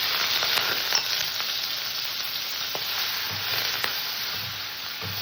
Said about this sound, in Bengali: চিংড়ি মাছটাকে আমি ভেজে নেবো